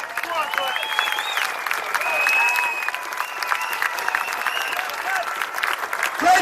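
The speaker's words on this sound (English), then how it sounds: "Give Glenn a round of applause." Outdoor crowd applause at a street demonstration in London, sustained clapping from many people with whistles and voices mixed in, steady and moderately loud for several seconds.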